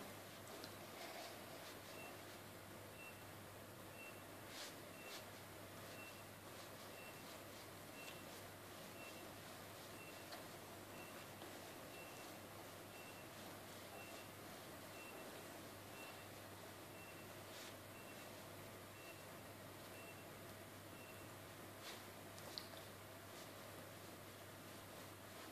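Faint electronic beeps repeat at a steady pace far in the background while homemade horse treats are made, barely rising above a constant soft hiss, with no talking.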